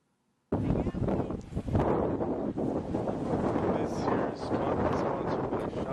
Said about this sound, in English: We can't hear you. It's too windy.